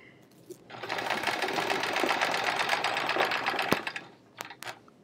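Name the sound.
sewing machine free-motion quilting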